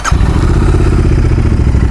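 A Royal Enfield Interceptor 650 twin after an ECU remap, with baffles fitted in the exhaust, running close by while being ridden, loud and steady with a deep pulsing throb after a sharp start.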